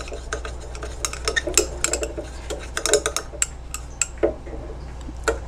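Salicylic acid powder being mixed into solvents such as castor oil and glycerin in a container, a close run of quick clinking and tapping as a utensil scrapes and stirs, irregular and busy, with no speech.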